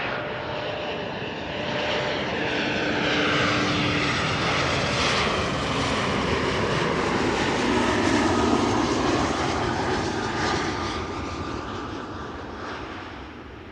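An airliner number 190 in SkyTeam livery arriving from Brussels, a steady engine drone that builds gently, holds loud through the middle and fades slightly toward the end, heard alone.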